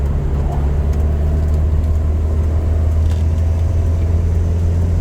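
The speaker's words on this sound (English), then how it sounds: "Still gonna be kind of loud because it's an old car anyways." An old car fitted with a Weber carburetor cruises on the freeway, giving a loud, constant engine drone with heavy road and wind rumble throughout and no talking.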